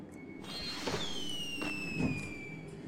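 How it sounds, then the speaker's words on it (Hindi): Firecrackers going off in the video game Sky: Children of the Light, a few soft muffled pops with whistling tones sliding down, faint and short. "चलो पटाखे उठाखे फोड़ के देखते हैं"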